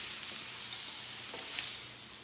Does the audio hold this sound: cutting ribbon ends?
no